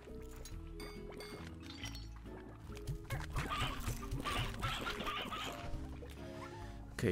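Chickens cluck repeatedly in the Slime Rancher video game, short clucks scattered over a watery, splashing game ambience with faint background music.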